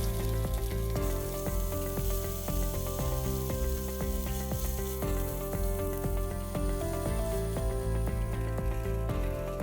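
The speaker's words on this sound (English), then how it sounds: "Pan fry the salmon, skin side down first, for about 2 minutes." Salmon steak fries skin side down in a pan with a steady, moderate sizzle. The sizzle runs throughout over a tonal, rhythmic background bed.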